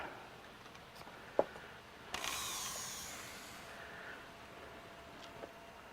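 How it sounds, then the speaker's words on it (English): A 110-volt power drill fitted with a half-inch adapter drives a mechanical car lift. A sharp click comes first, then a faint, brief whirring run that fades out. "Jesse's going to grab a 110 volt power drill there."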